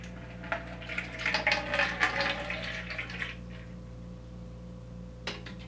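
Water poured from a tiny pouring vessel into a small container during a Montessori hand-washing lesson, a trickling splash for about three seconds before it fades, with a brief clink near the end.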